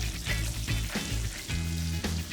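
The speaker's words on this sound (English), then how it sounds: "Once the butter is melted, I'm gonna add some pumpkin pie spice. Give that a quick stir." Melted butter sizzles in a pan as pumpkin pie spice is stirred in, with steady frying crackle and brief scraping pulses over a low background hum.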